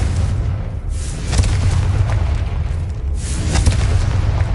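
A Confringo blasting spell in Hogwarts Legacy detonates as a loud, heavy boom with deep rumbling low end, rolling on with a couple of further blast surges across a few seconds.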